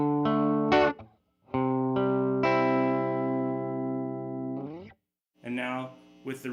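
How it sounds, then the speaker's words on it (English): Clean electric guitar through a Purdy Tube Amps tweed amp, a few sustained chords and ringing notes with short pauses between them, playing alone and fairly loud. "Once again, here's the clean tone."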